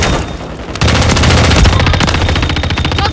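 Call of Duty gunfire rattles in loud, rapid, continuous bursts of automatic fire, close and dense, with a short quieter stretch before the full volley kicks in.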